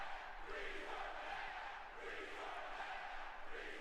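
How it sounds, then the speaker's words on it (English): A live wrestling arena crowd at WWE Hell in a Cell 2019 roars and chants in a sustained, distant-sounding wash of voices, swelling slightly in waves with no clear single speaker. "Listen to the crowd live."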